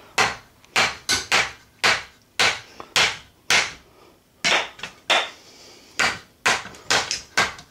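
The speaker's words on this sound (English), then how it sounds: "So let's now hit it with a hammer." Hammer striking a three-ring parachute release system hard, about a dozen loud, sharp impacts in an uneven rhythm, each a close metallic-woody crack with a short decay, no talking.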